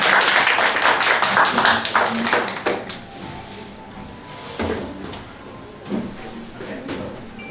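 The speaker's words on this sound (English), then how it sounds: "Let's give them a round of applause." Applause from a small audience at a Christmas activity event: a dense burst of clapping for about three seconds, thinning into a few scattered claps and taps.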